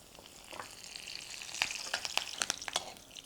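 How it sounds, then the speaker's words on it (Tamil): Urad dal and curry leaves crackling in hot oil for a South Indian keerai kootu: a bright, steady sizzle with sharp popping spatters growing denser and louder toward the end, heard alone without speech. "ஸோ இப்போ எண்ணெய் சூடாயிடுச்சு. உளுத்தம் பருப்பு, கொஞ்சம் கருவேப்பிலை"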